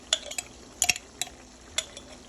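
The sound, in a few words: stirring garlic into a seafood boil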